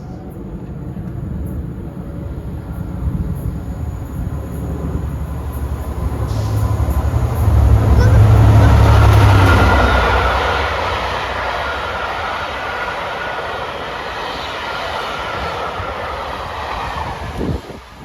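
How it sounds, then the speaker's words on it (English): Belmont British Pullman train hauled by two Class 67 diesel locomotives, 67024 and 67021, passing outdoors: a rising engine rumble and rolling wheel noise swell to a loud peak as it goes by, then fade into steady carriage rumble. "the Belmont British Pullman coming through with its usual pair of Class 67s, 67024 and 67021"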